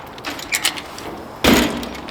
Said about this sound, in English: Final test, will the door close?